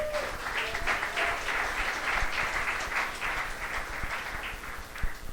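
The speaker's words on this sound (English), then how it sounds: "Applause for all our founders," Audience applause for startup founders at an event, a dense, sustained clapping from a crowd at moderate volume with a few louder individual claps standing out.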